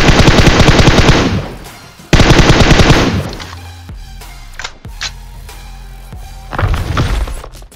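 Rapid automatic gunfire from a battle royale video game, loud sustained bursts of repeated shots, a pause, another long burst, then scattered single shots and a final burst.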